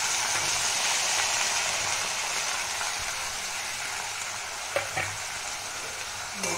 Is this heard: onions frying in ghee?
yes